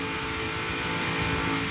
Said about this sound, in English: Listen to the engine and you never hear change sounds.